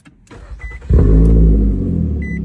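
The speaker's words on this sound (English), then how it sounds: "Start the vehicle back up." A Nissan Altima engine cranks and starts, then settles into a steady, close, loud idle with no talk over it.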